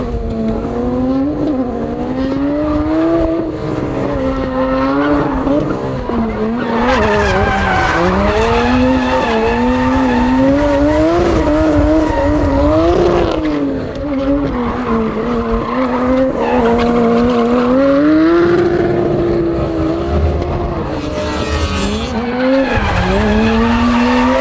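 A BMW E92 drifts at an event, its engine wailing and rising and falling under long, loud tire squeal and skidding that continues almost without a break.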